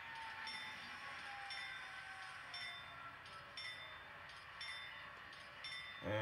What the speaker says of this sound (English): just bring the train to a halt